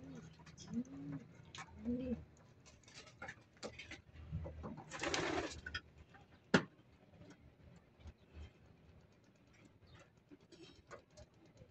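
Pigeons coo softly in a low, rolling rhythm near the start, with scattered clicks and a brief rustling burst in an otherwise quiet outdoor space.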